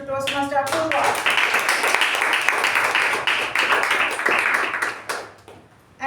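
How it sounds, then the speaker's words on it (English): An audience at a Toastmasters meeting applauds the Toastmaster, with dense, sustained clapping that follows a brief voice and fades near the end. "So a big round of applause to Toastmaster Apoorva."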